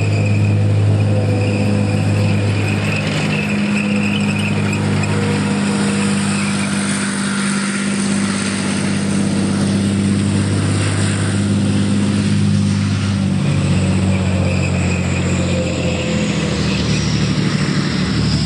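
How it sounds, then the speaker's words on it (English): An M60 tank drives steadily and close by, its deep engine drone and tonal hum holding constant throughout, with a high whine above it and no talking. "one of the other things you can see from that tank driving around"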